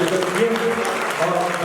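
Audience clapping at a Hindi poetry recital, a short burst of dense applause from the crowd, filling the room evenly from start to end.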